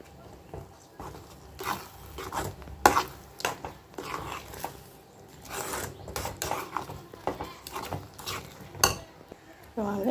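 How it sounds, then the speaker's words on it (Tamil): Food being stirred and mixed with ghee in a pan at breakfast time, with scattered scraping clinks of a spoon against metal and clattering utensils, some louder knocks between softer stirring. "இப்போ நல்லா மிக்ஸ் பண்ணிக்கலாம்."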